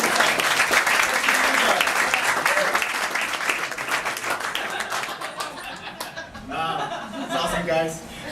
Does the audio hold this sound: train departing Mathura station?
no